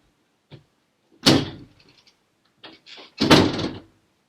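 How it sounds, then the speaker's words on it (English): A door being closed indoors at home: two solid thuds about two seconds apart, with soft rattles and clicks of the door and latch in between and no talking. "Please close the door."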